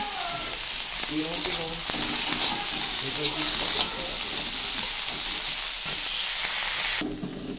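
Chickpeas and salt frying in a hot pan for a soybean and lentil dish, a steady close sizzle with faint background voices and clinks, ending in a brief quieter hiss.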